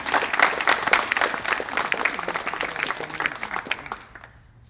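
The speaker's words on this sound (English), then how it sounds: "You can clap." A school audience applauds after a Texas Workforce Commission grant announcement at Waco High School, crisp close claps that crowd together loudly, then thin out and trail off into quiet.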